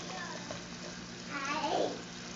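Asparagus sautés in melted butter in a pan, giving a soft, steady sizzle that swells briefly in the middle as it is stirred.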